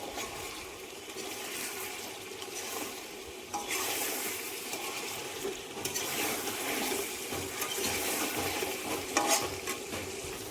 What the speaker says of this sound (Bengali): মাংসগুলো একটু নেড়ে দিচ্ছি।